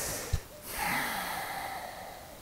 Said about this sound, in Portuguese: essa respiração, você entende que eu estou tentando buscar uma informação